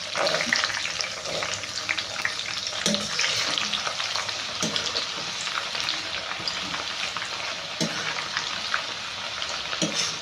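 Mustard seeds, dried red chillies, curry leaves and garlic fried in hot oil for a tomato dish, a steady loud sizzle with faint popping and occasional stirring clinks, no talk.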